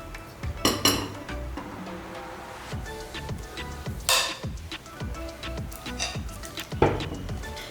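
Pakora batter is scooped from a mixing pot into a bowl, with metal spoon scrapes, dull knocks and bright clinks of dishes and cutlery close by, in irregular bursts over a steady kitchen background, without talking.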